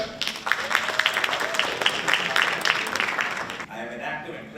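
Studio talk-show audience applauding for about three and a half seconds, a dense crackle of clapping that cuts off abruptly, leaving quieter room noise.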